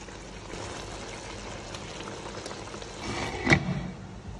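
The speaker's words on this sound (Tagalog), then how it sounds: "At itong pakuluan pa ng pakuluan" Chicken asado with potatoes and carrots simmering in a pot gives off a steady bubbling, watery rumble with a brief louder splash or clink near the end.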